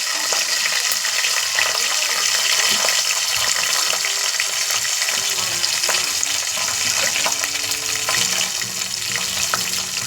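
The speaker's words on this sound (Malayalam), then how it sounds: "ഇനിയിപ്പോൾ എണ്ണ നന്നായിട്ട് ചൂടായിട്ടുണ്ട്. അപ്പോൾ നമ്മൾ ഇതിലേക്ക് ഗ്രാമ്പു, പട്ടയാണ് ചേർക്കാൻ പോകുന്നത്." Cloves and cinnamon sizzle in hot oil with a loud, steady frying hiss throughout, close up and without talk.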